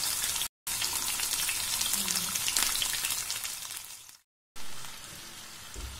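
Karimeen pearl spot fish fries in a pan with a dense, steady sizzle and crackle, close and fairly loud, broken by two brief silent gaps.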